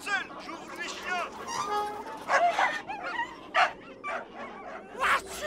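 Cartoon dogs bark and yip in rapid bursts, a loud volley of yaps and whimpering barks released to chase a thief from a henhouse, with voices talking around them.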